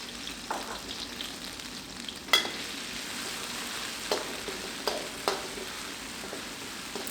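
Garlic and pounded chili stir-frying in hot oil in a wok, a steady low sizzle broken by a few sharp scraping stirs and clinks, fairly quiet and with no one talking.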